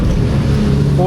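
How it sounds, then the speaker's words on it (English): A BMW E46 drifting on a rain-soaked road, its engine roaring loud and close as the rear tires judder through wheel hop, with a voice briefly audible over the car. "Holy wheel hop."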